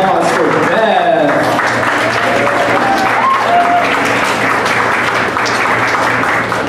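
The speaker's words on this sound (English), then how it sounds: "Big round of applause for Beth." Audience applause fills a small venue at a community choir's Broadway Golden Era concert, steady dense clapping lasting throughout at full loudness with no break.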